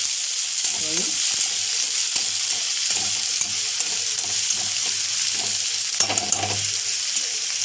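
Spring onion greens fry in hot oil while being stirred, a loud continuous sizzle broken by scraping and tapping of a utensil against the pan.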